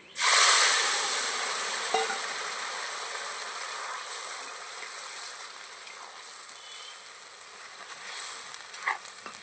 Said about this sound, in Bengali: এবার শাকটা ঢেলে দেবো।